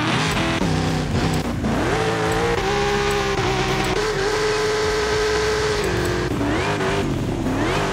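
A car engine in Forza Horizon 5, a stock unit with factory supercharger, revs and shifts repeatedly, rising and falling in pitch as it accelerates, loud and close with no talking.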